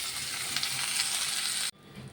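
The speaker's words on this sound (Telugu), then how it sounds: "అవి కూడా ఫ్రై చేసుకుందాం" Ingredients fry in a pan with a steady, loud broadband sizzle that cuts off abruptly near the end, leaving a quieter low crackle afterward.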